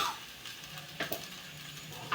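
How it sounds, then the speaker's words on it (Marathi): Sago pearls (sabudana) frying in a pan while being stirred, a soft low sizzle with a few short scraping stirs at intervals, close and fairly quiet. "साबुदाणा चांगला फ्राय करून घ्यायचा"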